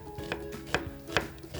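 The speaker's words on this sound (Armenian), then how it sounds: "սոխը շատ մանր, խորանարդաձև կտրատելու ենք" Knife chopping onion finely into small cubes on a board, four crisp evenly spaced chops close by with no talk.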